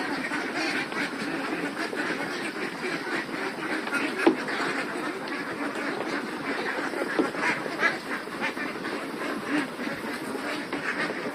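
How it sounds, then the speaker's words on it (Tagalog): Native Itik Pinas ducks being fed on a farm in the Philippines, quacking as a dense, continuous flock chorus with overlapping calls close by. "the breed of this duck. It's called Itik Pinas, locally named in Philippines."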